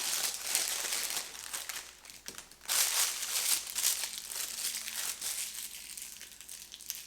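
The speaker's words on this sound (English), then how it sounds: "Pop that old bag inside the new bag." A plastic piping bag of pink icing, used for decorating Easter cookies, is slipped inside a new bag, with steady close crinkling and rustling throughout and a sharper burst of crumpling midway.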